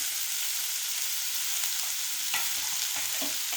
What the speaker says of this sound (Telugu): యాలకులు, చెక్క, లవంగాలు, బిర్యానీ ఆకు వేసుకొని ఫ్రై చేసుకోవాలి.